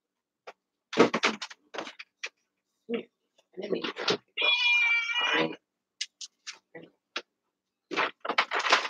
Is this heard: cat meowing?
yes